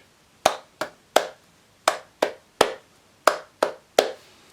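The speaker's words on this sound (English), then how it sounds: "the best way to do with this is just to clap or say your rhythm" A single pair of hands claps a musical rhythm of ten sharp, close claps with uneven spacing, against silence.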